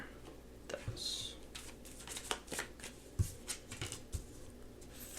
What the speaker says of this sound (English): now I'm just going to pull some clarifying cards for those